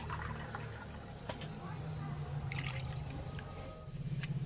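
Water is poured into a pot of cauliflower-and-potato curry with lentil fritters, making a faint, soft splashing trickle that stays mostly under a person talking nearby.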